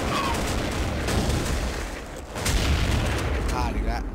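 Gunfire and booming blasts in an old war video game, a continuous loud barrage of shots and explosions filling the scene, with a voice speaking over it.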